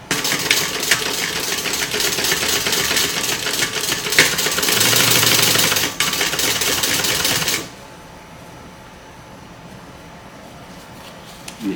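A sewing machine back stitches a bag lining, running in a loud, steady mechanical whir for several seconds before stopping and leaving a quiet room.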